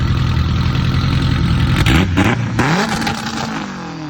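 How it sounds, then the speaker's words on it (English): A Corvette Z06 sports car engine revving nearby, a loud rising roar that climbs in pitch and then falls back toward idle. "Rev it up for me."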